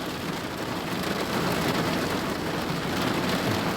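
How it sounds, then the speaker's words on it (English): Heavy rain pours down in a dense, steady hiss that fills the whole stretch with unbroken noise and no talking. "Rain's picking up."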